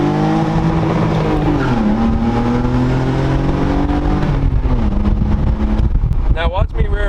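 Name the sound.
BMW Z3 1999 2.5 5-speed car driving, tires squealing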